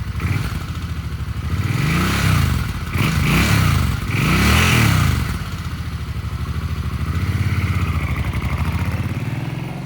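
A used 2013 Suzuki Boulevard M50 cruiser with an 805cc V-twin engine runs close by, its lumpy idle broken by three strong revs that rise and fall before settling back to a steady throbbing idle.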